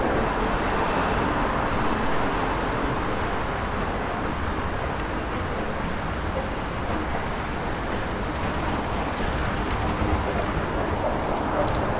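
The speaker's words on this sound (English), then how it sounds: "It's the approaches to the Harbour Bridge below us. So there's a lot of cars heading that way" Steady traffic on the approaches to Sydney Harbour Bridge, heard from above: a continuous broadband roar of many cars passing, dense and unbroken, with no voices.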